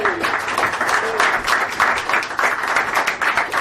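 Audience at a comedy night applauds and cheers for a comedian, with dense steady clapping and a few whoops. It carries on through the whole stretch with no break.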